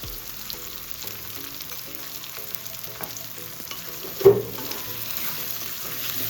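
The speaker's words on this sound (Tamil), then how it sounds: "எல்லாத்தையும் சேர்த்து மிக்ஸ் பண்ணி விட்டு வதங்க விட்டுருவோம்" Onion, tomato and turmeric sautéing in a pan for an intestine curry, a steady soft sizzle under occasional stirring scrapes, with one sharper clink of a utensil partway through.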